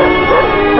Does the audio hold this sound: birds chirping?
no